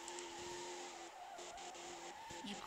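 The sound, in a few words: drift car tire squeal in Assoluto Racing video game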